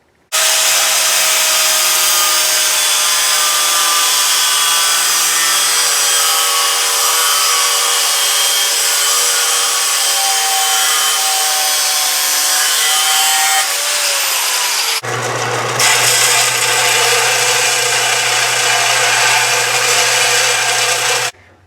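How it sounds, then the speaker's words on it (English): A power tool cuts the head off a steel bolt and grinds its end round during a brake master cylinder replacement, a loud continuous whine and rasp that runs steadily throughout, its pitch dropping and roughening in the final stretch. "all I'm going to do is cut this head off the bolt and then round the end off."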